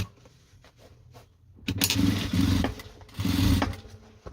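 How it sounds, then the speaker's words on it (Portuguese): A sewing machine topstitching a fabric pencil case with three divider pockets and a lining, running in two loud close bursts of rapid stitching separated by a short pause after quieter handling sounds. "E agora, viro pra cá pra pespontar"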